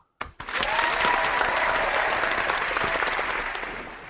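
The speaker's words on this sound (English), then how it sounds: "And we clap." An audience breaks into applause after a giveaway winner is announced, a few initial claps swelling into steady, close group clapping that holds for several seconds.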